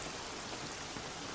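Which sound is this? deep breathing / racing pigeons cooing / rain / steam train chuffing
rain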